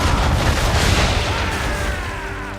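Ship cannons firing in a naval battle in Assassin's Creed 3: a dense, continuous roar of booming blasts with a low rumbling tail, loud and close throughout.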